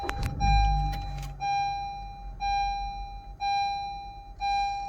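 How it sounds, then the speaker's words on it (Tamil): Honda Amaze i-VTEC petrol car, a used vehicle with about 47,000 km, started with a push-start button: a brief cranking burst that catches into a low idle, followed by a repeating electronic chime pulsing at steady intervals. "வெஹிக்கிள் ஸ்டார்ட் பண்ணி பார்க்கலாம்."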